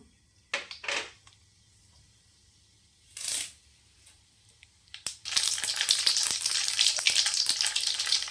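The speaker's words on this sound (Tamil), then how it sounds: "கடுகு உளுத்தம் பருப்பு சேர்த்துக்கலாம்." Mustard seeds and urad dal hit hot oil for a mutton varuval, giving a sudden loud crackling sizzle with popping seeds that runs steadily to the end, after a few brief clatters and scrapes.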